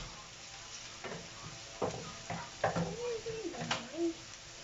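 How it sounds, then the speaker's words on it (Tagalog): Onion and garlic sauté in a pan with a low sizzle, while a spoon scrapes and knocks against the pan in separate strokes. Someone talks over the cooking. "magigisa muna ako ng sibuyas at saka bawang"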